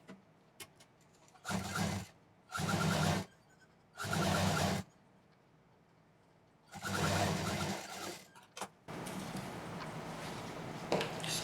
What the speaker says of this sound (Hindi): इस तरह से इसको यहाँ से यहाँ तक लंबाई में सिल देंगे।